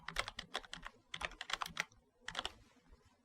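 Close, quiet keystrokes on a computer keyboard as a short word is typed, in quick bursts of clicks separated by brief pauses, with no talking.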